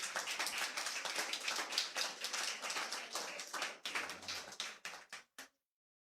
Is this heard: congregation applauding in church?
yes